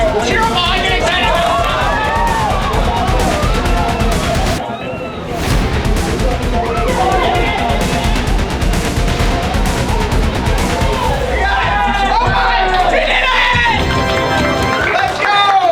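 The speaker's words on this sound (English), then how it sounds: "Cheer them on. Get excited." Students crowded around a race at a late-night class event, cheering and yelling loudly in a dense, continuous babble with shouts and excited voices throughout.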